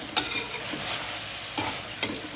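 Tomato and spices stir-fried together in a pan, a steady oily sizzle broken by three sharp scrapes of the spatula, close and alone with no voices.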